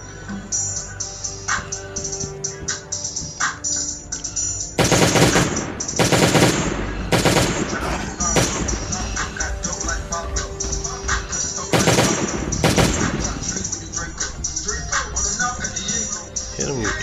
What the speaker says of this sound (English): Wait, there's a turret there.